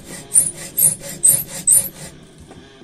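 A homemade blade in a hand fretsaw cuts with five or six even raspy strokes about half a second apart, sharp and close, then stops and leaves a quiet pause.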